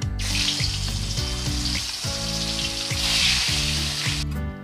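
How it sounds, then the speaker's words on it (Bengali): Pieces of rohu fish fry in hot oil in a home kitchen, a loud, continuous crackling sizzle close by, with irregular pops and spatters and no voices. "বাকি মাছগুলো আমি একইভাবে ভেজে নেব।"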